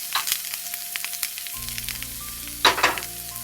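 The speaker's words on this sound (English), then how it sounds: "If the mic too far, put a little sizzle in the mic." Food sizzles and crackles in a hot, lightly smoking pan during a cooking demonstration, a steady close frying hiss with a louder burst of spattering near the end and a low hum beneath.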